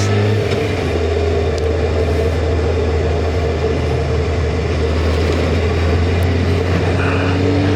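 A Honda CBR F3 motorcycle engine drones steadily while riding, a loud constant hum with wind roar, holding high revs without clear gear changes, no talking.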